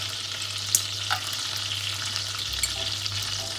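Whole spices, cinnamon among them, dropped into hot oil give a steady, moderate sizzle and frying hiss with a few small pops and clicks, heard close and without any talking.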